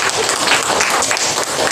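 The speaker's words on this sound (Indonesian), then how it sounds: "Iya, tepuk tangan." A class of students applauds together in a school science lesson on solar eclipses, a dense, steady patter of many hands filling the whole short stretch at an even, fairly loud level.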